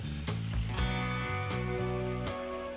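Onion and chili fry in oil in a big pot for a five-kilogram group picnic meal, giving a close, steady sizzle with a few sharper spits over a continuous hiss.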